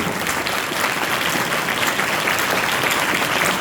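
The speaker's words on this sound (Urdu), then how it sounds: "اگر ملی تو ذرا زوردار تالیاں بجائیے، زوردار ایسے آواز آئے" Church congregation at an Urdu-language Christian service applauding loudly, a sustained, even roar of many hands clapping close by with no break.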